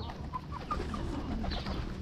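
Pigeons being fed at a skywalk, with clucking and cooing bird calls scattered over a steady, busy outdoor background for a couple of seconds.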